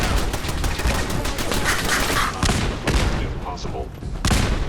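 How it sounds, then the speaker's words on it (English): Rapid, loud gunfire in Fallout 4, a dense string of sharp shots fired in quick bursts with brief gaps, close and dominating the scene. "I start shooting at the other guy."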